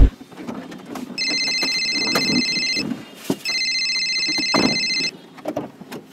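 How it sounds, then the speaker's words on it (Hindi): A telephone rings in two long electronic trilling bursts with a short gap between them, over background noise and movement, with no talking. "छोटू बार बार फोन ना किया करो मम्मी।"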